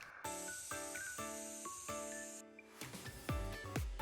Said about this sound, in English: we then got our spray adhesive and started to glue around and over the board insulation